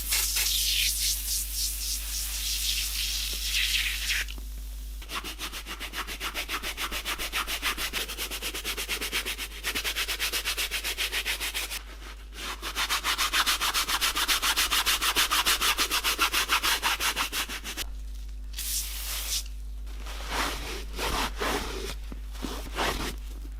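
Gucci hi-top sneakers caked in paint, glue and grime get scrubbed with interior cleaner, a close, steady brushing rasp in long rhythmic strokes, pausing briefly a few times, over a constant low hum.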